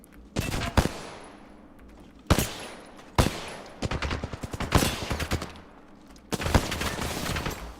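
Gunfire in the Apex Legends video game comes in several sharp bursts of rapid automatic shots separated by brief pauses, loud and close, with no talking during the shooting.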